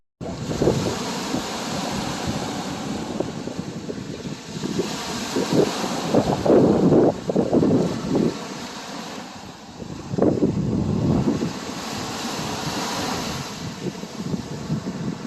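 Sea waves wash against the Jamaican coast under steady gusting wind, a continuous loud surging roar with swells rising and falling, no voices.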